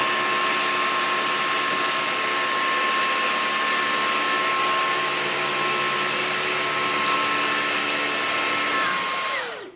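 A Levoit LVAC-200 cordless vacuum runs continuously at close range, a steady high whine with a strong tonal hum as it sucks up sawdust, lint and cereal, then winds down at the end.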